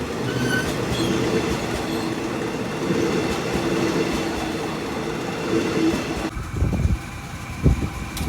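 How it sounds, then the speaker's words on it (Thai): Special express train passing through Photharam station in Thailand, a loud, close, continuous roar of rolling wheels and rumbling cars that cuts off abruptly, leaving a few clunks and faint station sounds. "หลีกให้ขบวน ด่วนพิเศษทักษินารัตนะครับ ที่โพธารามนะครับ"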